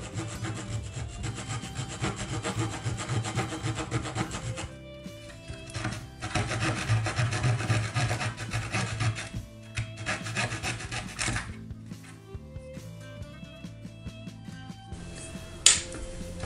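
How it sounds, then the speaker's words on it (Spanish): A small saw cuts wooden crossbeams for an OcCre Flying Dutchman model ship, a steady close rasping stroke that pauses, resumes, and ends with a brief sharp knock. "voy a empezar a cortar los 3 travesaños"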